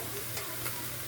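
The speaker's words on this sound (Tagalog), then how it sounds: "lalagyan na natin scramble egg with sardinas" Scrambled eggs with canned Ligo sardines fry in a pan, giving a steady close hiss and crackle with faint stirring through the short stretch.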